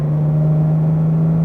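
Porsche GT3 RS engine pulling under throttle on a track, a steady loud droning hum with rumble underneath, heard close and without talk.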